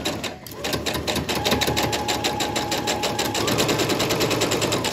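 Sewing machine stitching quilt block pieces straight from the fabric edge, a steady, fast, close-up rhythmic clatter running continuously without pause.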